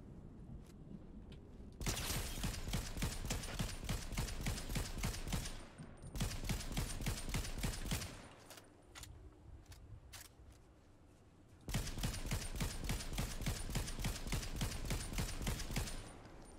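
Rapid automatic gunfire in Fortnite rattles in long sustained bursts separated by short pauses and a few single shots, loud and close throughout.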